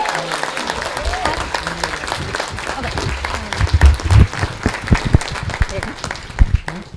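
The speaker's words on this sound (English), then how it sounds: "Let's give Aaron a good round of applause first." A crowd claps in sustained applause, dense and steady, with a voice or two mixed in and some louder claps near the end.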